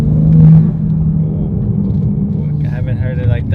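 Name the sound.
BMW G8X S58 engine intake and turbo sound while revving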